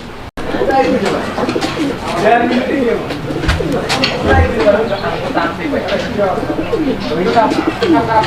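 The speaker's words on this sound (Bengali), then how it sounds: "অনেক চমৎকার ডাকের একটা কবুতর এটা লাহরি কবুতর ইয়োলো লাহরি" A yellow Lahori pigeon coos repeatedly up close, deep rolling calls in a steady rhythm, with some background chatter and noise, at a pigeon farm.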